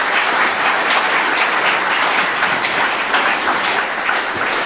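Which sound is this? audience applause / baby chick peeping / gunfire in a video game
audience applause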